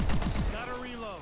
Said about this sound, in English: Gotta reload.